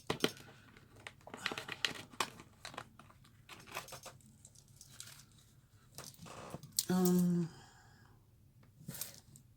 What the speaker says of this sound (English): Now I'm going to pull just a couple of the oracle cards